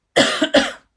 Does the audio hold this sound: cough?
yes